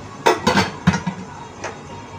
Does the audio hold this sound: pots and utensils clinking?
yes